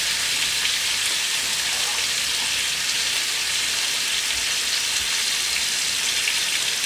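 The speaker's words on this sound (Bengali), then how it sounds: "ওই তেলে পাঁচফোড়ন দিয়ে আমটাকে নাড়াচাড়া" Mango pieces fry in oil with panch phoron, a dense constant sizzle close up that sounds almost like heavy rain, with faint stirring underneath and no voices.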